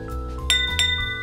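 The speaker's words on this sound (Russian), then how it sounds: "Купил себе вот такой стаканчик, нисколько не хуже, хрустальный." A cut-crystal whisky tumbler gives two bright, ringing clinks about a third of a second apart over a steady low hum, each leaving a short glassy ring-out.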